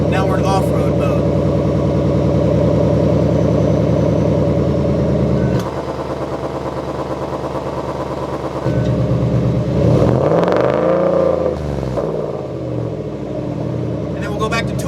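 A Roush Off Road Supercharged truck engine running in off-road mode, giving a loud steady rumble that dips briefly, then rises in a revving surge near the end while someone speaks over it.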